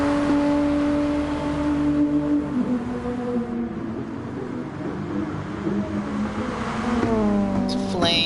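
Nissan GTR GT3 race car from a racing video game at the Red Bull Ring, its engine droning loudly and steadily with falling pitch steps as it downshifts, rising again near the end; a commentator talks over it.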